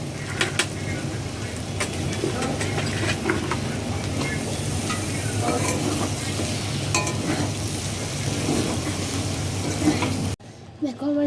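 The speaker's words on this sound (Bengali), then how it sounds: "এবার আমি দিয়ে দেবো বেগুন, যেগুলো কুচি করে রাখা ছিল।" Chopped eggplant tipped into a pan of fried potatoes, with a loud, steady sizzle and stirring scrapes throughout, ending in a sudden short drop before noise resumes.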